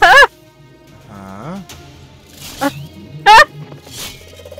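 Cartoonish bird honks in the video game It Takes Two: two sharp, loud goose-like honks at the start and near the end, with softer squawking and warbling cries between them, set against quiet game ambience.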